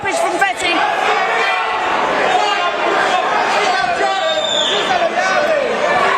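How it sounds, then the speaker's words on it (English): A boxing crowd at York Hall in London roars and cheers at full volume, a dense, sustained wall of shouting and chatter that never lets up. "The crowd are going absolutely wild."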